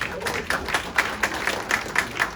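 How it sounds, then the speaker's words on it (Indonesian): Group clapping at an Indonesian leadership sharing session in Jakarta, a steady rhythmic patter of hands at moderate level, with regular louder beats suggesting unison clapping. "Tepuk tangan"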